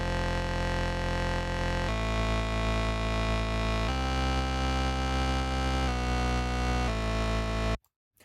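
Three modular synth oscillators with their pitch LFOs unplugged, a loud sustained buzzy drone chord holding steady and shifting to new pitches about every two seconds, then cutting off abruptly near the end.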